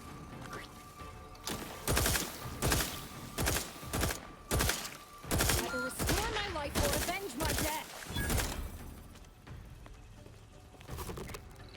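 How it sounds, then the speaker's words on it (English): Rockets firing repeatedly in The Outer Worlds 2, a series of loud, sharp blasts and crashes with game sound effects and background voices, bursting in quick bursts through most of the stretch. "I guess I'm firing rockets sometimes"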